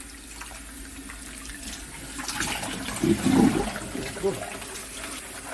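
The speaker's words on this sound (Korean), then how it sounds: "다 절여졌으니까 이제 씻어가지고 물기를 빼주겠습니다" Salted young radishes for chonggak kimchi being rinsed under a running kitchen tap, a steady splash of water growing louder midway with brief sloshing bursts, while a person speaks over it.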